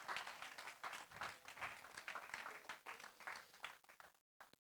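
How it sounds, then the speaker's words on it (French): Audience applause for a band of musicians at a Saturday-evening church worship gathering, a steady wash of many hands clapping at moderate distance for about four seconds before cutting off abruptly. "On peut les applaudir, hein?"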